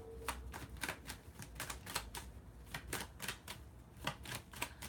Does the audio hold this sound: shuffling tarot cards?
yes